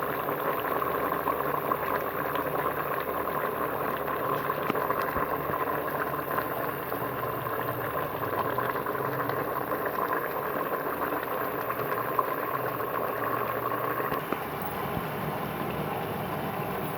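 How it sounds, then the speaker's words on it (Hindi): Water boiling in a pot of rice pulao with potatoes, a steady dense bubbling and hissing that continues evenly throughout at moderate loudness, with no voices. "इस तरह से इसमें बॉयल आ चुका है और ये बन रहे हैं"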